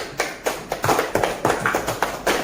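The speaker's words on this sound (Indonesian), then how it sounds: "beri aplaus dulu untuk kelompok 1" Classroom applause from a group of students, quick uneven hand claps in a dense rhythmic burst, close and lively, with no talking over it.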